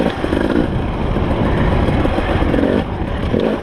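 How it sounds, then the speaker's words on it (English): A 300 enduro dirt bike engine runs steadily and loud on a trail, lugging low with a continuous rumble throughout and no pause. "These 300s are amazing. You can lug the motor and they're almost impossible to stall."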